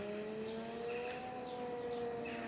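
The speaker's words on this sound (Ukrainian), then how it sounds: "і повітряна тривога" An air raid siren wails steadily from a distance, a faint sustained tone that rises slightly, with faint background noise.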